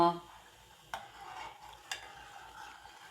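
Homemade coconut oil being stirred in a pot, a soft continuous scraping under faint sizzling, with two sharp utensil knocks against the pot.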